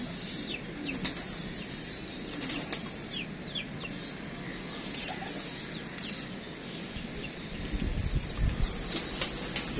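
Pigeons, zoomed in on from a long way off, give soft chirps and brief wing flutters over a constant windy hiss. The birds sound faint and distant, and a low rumble swells near the end.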